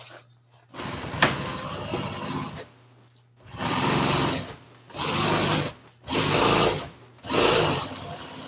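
Sewing machine top-stitching upholstery for an old Toyota seat, running in several loud bursts of rapid mechanical stitching separated by short pauses, close up.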